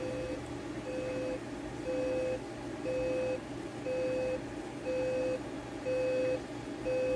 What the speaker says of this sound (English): The alarm is very quiet